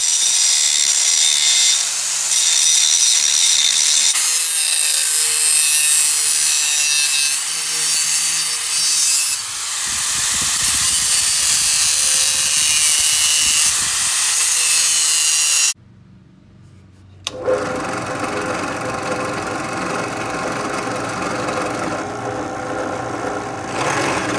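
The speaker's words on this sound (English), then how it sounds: "I'm gonna go over to my drill press and put a hole in this." A drill press bores a hole through a block of wood, a loud steady whirring grind that runs for about fifteen seconds, cuts out abruptly, then returns as a lower motor hum, close and without talk.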